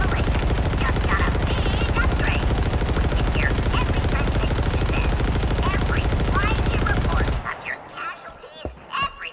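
Dense, rapid automatic gunfire rattles in the Halo Infinite video game, continuous and loud for about seven seconds, then stops abruptly, leaving a few scattered shots and quieter game noise.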